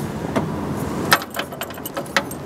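Keys jangling in the in-dash ignition of an abandoned 1968 Buick LeSabre, a few metallic clinks and rattles up close over a low steady rumble.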